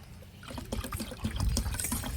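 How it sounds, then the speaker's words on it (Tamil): Water is poured into a container of juice, a close, continuous splashing trickle that grows slightly fuller as it goes, heard alone without voices. "கொஞ்சமாக தண்ணி சேர்த்துக்கலாம்."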